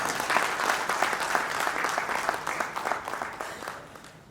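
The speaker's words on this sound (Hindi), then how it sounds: "तो उसके लिए भी आप तालियां बजा सकते हैं।" Sustained audience applause at a literary gathering and awards ceremony, a dense crowd of hands clapping steadily and fairly close, with no voices, tapering off toward the end.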